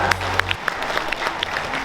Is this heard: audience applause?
yes